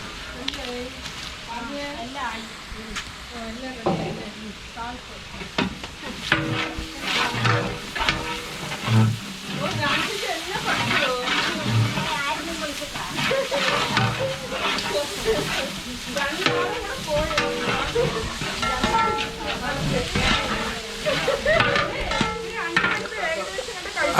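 Onions fry in a huge biryani pot made for 150 people at a Palakkad wedding, stirred by a large ladle. The sizzle is steady, with repeated scraping stirs, and a voice talks over it.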